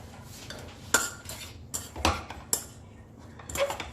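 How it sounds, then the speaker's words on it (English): A spoon mashes cooked horse gram (kulith) in a pan, giving four or five sharp, fairly quiet metallic clinks at irregular intervals over a soft scraping background. "Just keep mashing it a little more."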